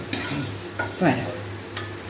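Five chopped green chillies fry in coconut oil in a pan, a brief, close sizzle with a soft stirring scrape in the middle.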